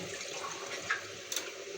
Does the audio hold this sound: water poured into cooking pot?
yes